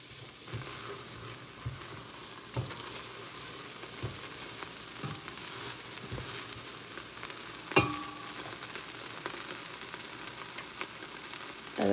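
Onions and garlic frying in a pot for a green bean casserole–inspired soup: a dense, steady sizzle with occasional scrapes and clinks of stirring, close up and continuous, with no talking.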